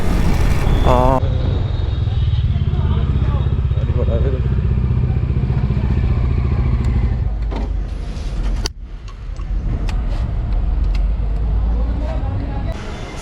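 A noisy Bajaj Dominar motorcycle, due for service with accelerating trouble and worn chain sprocket, rumbles steadily and close while riding, with wind roar throughout and brief clatter; a rider talks over it.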